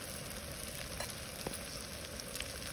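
Okra (bhindi) sizzling and frying in a pan with a little salt, a faint steady crackle with soft stirring clicks.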